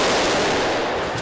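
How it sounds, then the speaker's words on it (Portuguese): A dense, loud burst of rapid crackling explosions from firework rockets going off in quick succession during a brawl at halftime of a Flamengo vs Vasco football match. "No meio do tumulto, barulho de rojões."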